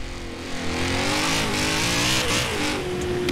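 A car engine in the racing video game Forza Horizon 4 revs loudly and close, its pitch climbing steadily and then settling at a high, steady drone, heard alone without any talk.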